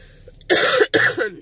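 Two harsh, close coughs in quick succession after a brief quiet moment.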